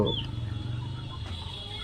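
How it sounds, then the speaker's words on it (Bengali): A chicken gives a short cluck at a village poultry market selling ducks and chickens, followed by low, quiet outdoor background. "সবাই বসে আছে হাঁস মুরগি নিয়ে কেনা বেচা"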